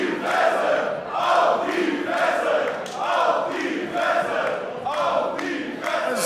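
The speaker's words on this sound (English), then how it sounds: "Listen to this crowd." Roaring wrestling crowd of several hundred fans inside the Markthalle in Hamburg at the opening bell, loud cheers and chants rising and falling in repeated waves.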